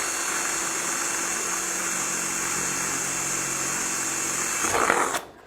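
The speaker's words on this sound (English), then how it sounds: "get the hole started off carefully so that the drill bit doesn't slip off" Power drill running steadily as it starts a hole, a continuous high whine that swells briefly near the end and then cuts off.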